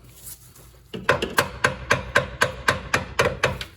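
After a quiet moment, a hammer strikes metal about a dozen times in a steady rhythm during a Triumph TR6 engine build, each sharp metallic clang ringing close and loud.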